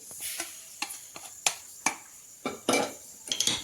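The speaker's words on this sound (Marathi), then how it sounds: "जिरे आणि पांढरे तीळ भाजून झालेले आहे तर एका डिशमध्ये मी काढून घेते." Roasted cumin seeds and white sesame being moved into a dish with a spoon, giving a string of sharp metallic clinks and scrapes at irregular intervals, close and fairly quiet with no talk.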